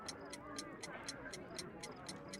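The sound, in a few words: ticking time bomb in a video game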